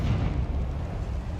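The Confringo spell in Hogwarts Legacy goes off in a short, heavy explosion, a loud, deep, rumbling burst that fills the moment on its own.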